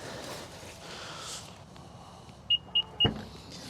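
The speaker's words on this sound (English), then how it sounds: "you got this convenient motion sensor power lift gate on there, which is super handy" Power liftgate of a 2023 Infiniti QX60 Autograph AWD running, a low steady motor hum with three short bright electronic beeps near the end, closing with a soft thud, no talk.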